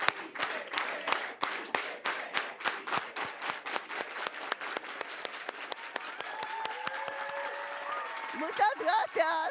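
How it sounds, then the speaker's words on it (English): A crowd at a state event with the California governor claps in unison, a steady organized beat of sharp synchronized claps that gradually quickens, with voices chanting and talking near the end. "let's all do it with an organized hand clap"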